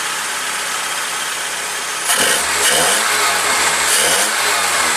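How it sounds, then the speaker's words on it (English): A Toyota AE86's carbureted engine runs loud and close, a steady mid-pitched idle that rises into a brief rev about halfway through and then settles back, with no speech. "Carburetor runs just fine."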